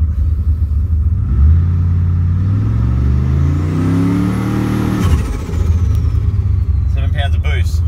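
A car engine with a 4L60E transmission and a 3,000 rpm converter revs hard against a transbrake to about 4,500 rpm, rising in pitch, holding loudly, then dropping back off, with a turbo whine and someone talking over it.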